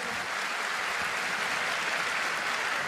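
Crowd clapping in answer to a question about the Kamisan protest, a steady, dense wash of applause from a sizable audience that continues evenly for a few seconds.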